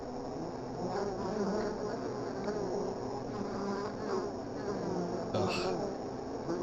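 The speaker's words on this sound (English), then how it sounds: "Being infested with bees." Bees infesting the walls in the video game Home Safety Hotline make a steady, continuous buzzing hum at moderate level, with someone talking faintly over it.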